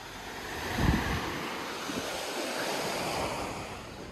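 Sea waves wash onto a sandy beach in Sudak, Crimea: a steady, broad roar of surf with some wind buffeting the microphone and one swell near the start, no voices.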